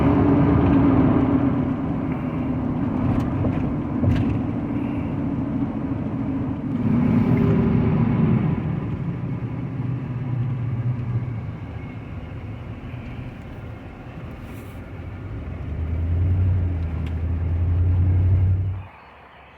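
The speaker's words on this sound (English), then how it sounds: "it rides like an F150 with some mud tires on it now" A 1998 Ford F150 pickup on mud tires drives along with a steady low rumble and road roar that swells and eases a few times, heard from inside the cab with no talking.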